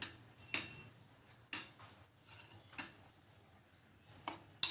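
A spoon scrapes and clinks against a pan while mixing bottle gourd with water, in a handful of sharp, irregular knocks, with quiet pauses between stirs.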